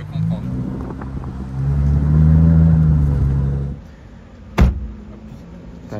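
A Ferrari Monza SP2 driving through Monaco, a low engine rumble that swells and fades under someone speaking, followed by a sharp knock or thump.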